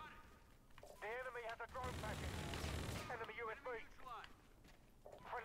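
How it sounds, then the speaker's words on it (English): Bursts of gunfire in a first-person shooter video game, loud and sustained across the middle of the clip, with excited voices talking over and around the shooting. "Those are some good shots."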